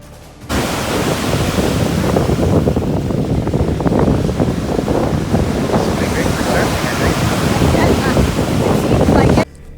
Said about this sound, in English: This is a lake on a mildly windy autumn afternoon along its north shore